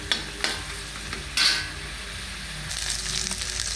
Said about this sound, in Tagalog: tapos ngayon naman yung giniling, ginisa na rin natin para lumabas yung pinakalasa na talaga